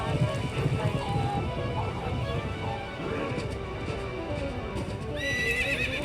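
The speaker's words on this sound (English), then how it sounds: "Right now what we've got is Link on a horse, fighting all these enemies." Horse in a Zelda video game at a Nintendo E3 2005 demo, with steady clip-clop hoofbeats under neighs and whinnies, plus battle noise and a brief bright chime near the end.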